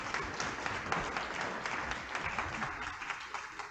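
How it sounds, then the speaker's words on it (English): Sustained audience applause after a history lecture on Holly Springs and William Faulkner, a dense continuous patter of many hands clapping at an even level throughout. "let's give Sally a round of applause"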